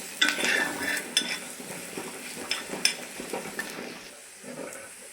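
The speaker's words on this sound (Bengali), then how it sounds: "পেঁয়াজ কাঁচা লঙ্কা ভালো করে একটু ভেজে নেব।" Chopped onion and green chillies fry in a pan while a utensil stirs and scrapes them in repeated clicks over a soft sizzle, close by and without any talking.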